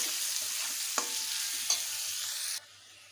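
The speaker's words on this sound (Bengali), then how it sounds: "এবারে দিয়ে দেব কোচানো পেঁয়াজ, দিয়ে দেব থেতো করা রসুন, ভালোভাবে ভেজে নেব।" Sliced onion and crushed garlic frying in oil, a steady close sizzle with a couple of clicks from a stirring utensil, cutting off abruptly near the end.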